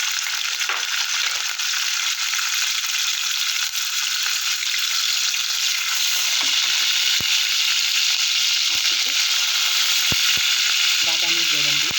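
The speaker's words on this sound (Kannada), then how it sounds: "ಎಣ್ಣೆ ಸ್ವಲ್ಪ ತುಂಬ ಕಾಯೋದು ಬೇಡ, ಸ್ವಲ್ಪ ಕಾಯ್ತಿದ್ದಂಗೆ ಈ ಮಸಾಲೆ ಸಾಮಾನೆಲ್ಲ ಹಾಕ್ಕೊಂಡ್ಬಿಡೋಣ" Whole spices crackle and sizzle in hot oil with a spoon of ghee for a Mughalai biryani tempering, a steady close hiss running throughout, with scattered sharp pops and brief clinks of stirring near the end.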